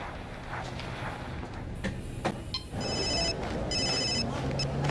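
A mobile phone rings indoors during a domestic scene, its electronic ringtone sounding in repeated bursts that grow clearer in the second half over faint room noise, with no talk.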